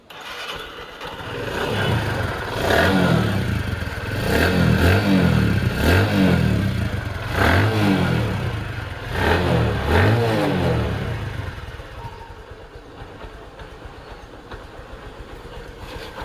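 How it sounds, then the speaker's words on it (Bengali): A second-hand Bajaj Discover 110 motorcycle with about 5,179 km on it revs loudly and close by in a series of rhythmic throttle bursts, then settles back to a lower, steady running hum. "আপনাদেরকে দেখাবো এই বাইকটির সাউন্ড তাহলে আরও শিওর হবেন"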